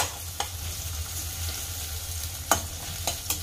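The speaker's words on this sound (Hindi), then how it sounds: "प्याज को कलर चेंज होने तक इसे फ्राई कर लेंगे।" Onions frying in a pan for dhaba-style matar paneer, a steady close sizzle with faint scraping stirs and a few sharper clinks of a spoon against the pan.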